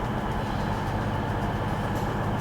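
A former Virgin Voyager train run by Grand Central, standing at a station platform, gives a loud, steady low rumble and hum that fills the whole stretch without break.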